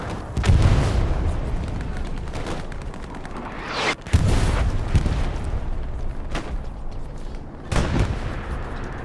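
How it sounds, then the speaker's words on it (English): Bombing run explosions in Hell Let Loose, with several deep booming blasts spaced a few seconds apart over a constant rumbling battlefield, loud and heavy. "Oh, great bombing run, Smolution."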